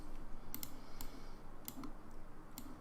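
Sparse computer mouse clicks, a few sharp isolated taps spaced through a quiet stretch, with faint keyboard typing in an Unreal Engine 4 editor setting.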